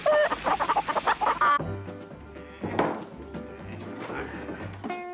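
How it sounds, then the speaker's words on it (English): Hens cluck in a rapid burst of close, loud clucks, followed by quieter intermittent clucking and low thumps, apparently a comic fake from a sketch show. "There you are, pure chicken from up the creek."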